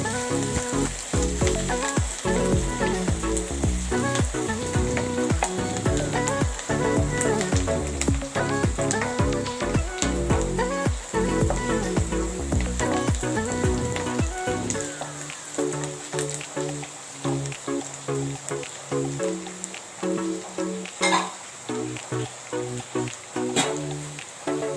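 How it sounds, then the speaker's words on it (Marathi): Onions fry in a pan for poha, with a sizzle running under rhythmic, music-like tones that drop partway through, leaving a quieter, thinner sizzle. "चांगला कांदा परतून घ्यायला पाहिजे."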